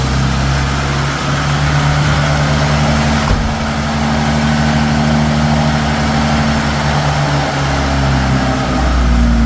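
A Chrysler K car idles in a loud, steady low rumble, with a brief disturbance partway through before settling back into an even idle.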